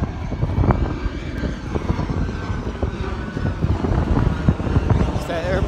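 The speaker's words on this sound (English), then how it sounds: "It's that airplane." An airplane passes overhead outdoors as a loud, broad, continuous roar mixed with wind buffeting the microphone. Footfalls and a voice are mixed in.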